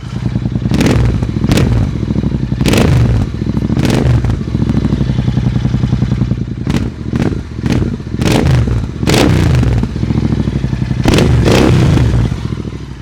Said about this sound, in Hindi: अब सुनते हैं इस एग्जॉस्ट का साउंड नोट जिसमें कि DB किलर नहीं लगा हुआ है।